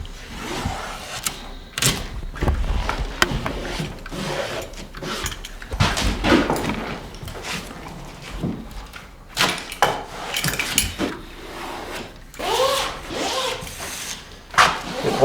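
Self-adhesive mesh tape is pressed by hand onto drywall, making close, intermittent rubbing and brushing sounds in short bursts and scrapes, with no voices.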